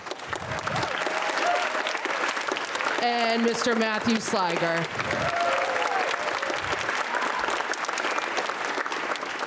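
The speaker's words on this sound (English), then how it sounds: "Another big round of applause" A large audience at a high school winter concert applauds loudly and continuously, while someone speaks over the clapping partway through.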